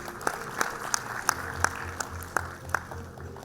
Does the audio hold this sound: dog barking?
no